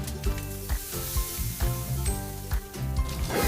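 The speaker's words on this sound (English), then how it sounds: "Sear your tomahawk steak over high heat" A tandoori-marinated tomahawk steak sears over high heat with a loud continuous sizzle, broken by regular scrapes and spatters as it is moved in the pan.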